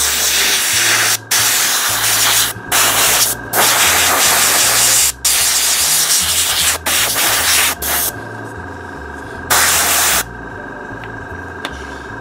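An airbrush blows dust off an old, dusty miniature orc figure: a loud, close, steady air hiss in long bursts, cut by brief pauses.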